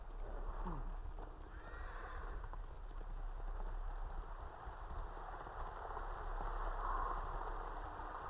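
A horse in Ghost of Tsushima gallops with steady clip-clop hoofbeats and lets out a loud whinny near the start, over a continuous bed of rain and ambient game sound.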